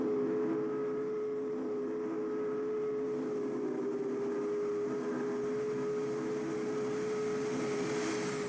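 A train in Train Simulator 2021 on the Peninsula Corridor rolls past Belmont Station, giving a steady, loud rumble with a sustained engine drone throughout and no voices.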